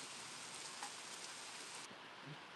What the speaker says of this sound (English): Well, rain's about to get really heavy.